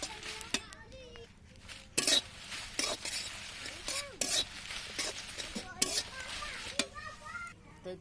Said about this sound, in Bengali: এই তো এখন মরিচগুলো ভেজে নিব।